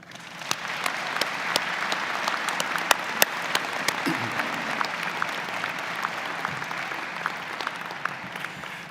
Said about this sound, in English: may I ask you please to join me in a round of applause for MRU's faculty and